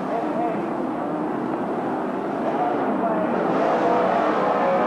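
Sports sedans roar away together at a race start, including a big blue Ford Falcon, as a blended engine drone builds under excited commentary throughout.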